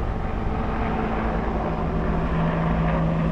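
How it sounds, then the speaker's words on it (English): Military attack helicopters fly overhead toward Gaza, their steady droning rotor and engine noise forming a continuous low rumble with a sustained tonal hum throughout. "these are military helicopters going towards Gaza?"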